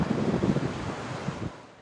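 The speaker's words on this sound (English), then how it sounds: "winds of over 40 miles per hour blew into the night." Strong gusty wind in Las Vegas during a rare rainy night with gusts over 40 miles per hour, a loud, steady roaring rush buffeting the microphone, easing slightly toward the end.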